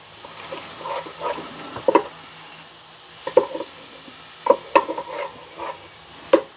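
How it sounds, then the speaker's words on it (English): A spoon moves through sloppy joe mixture made with Manwich sauce in a Ninja Speedi cooker, giving soft, wet scrapes and squishy knocks in uneven bursts over a quiet background hum. "Give it a good stir."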